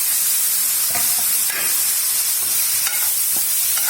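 Chopped tomatoes frying in a pan for a Kerala-style tomato fry give a steady, loud sizzle, and a few utensil scrapes and taps cut through it up close.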